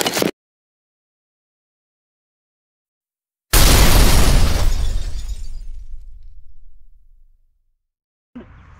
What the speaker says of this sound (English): Blowing up a pineapple in 3, 2, 1, fire in the hole.